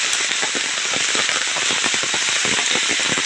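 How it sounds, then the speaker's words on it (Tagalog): Steady rain pours down in a forest, a dense hiss of drops with scattered sharper patters on leaves and surfaces, close and continuous throughout. "Talagang maulan dito sa amin ngayon"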